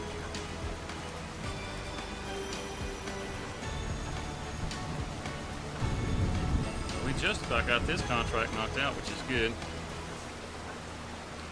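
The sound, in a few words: rain in Farming Simulator 25 video game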